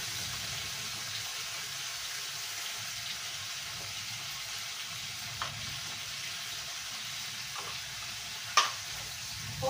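Onion paste with garlic fries in hot oil in a home kitchen, giving a soft, steady sizzle with a few light stirring clinks and scrapes, no voice over it.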